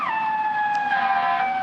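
A police car siren wails nearby, a loud continuous tone sliding slowly downward in pitch with a faint noise bed beneath and no voices.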